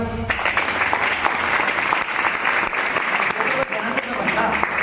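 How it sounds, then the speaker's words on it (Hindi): An audience claps together at a business opportunity meeting, a loud dense burst of applause sustained for around five seconds with little letup. "बजाओ ताली।"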